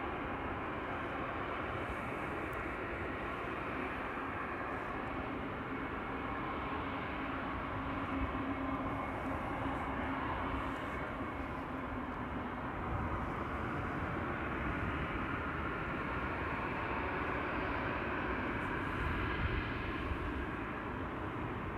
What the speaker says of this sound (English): KLM flight 743 to Lima in Peru has begun its taxi to runway 24.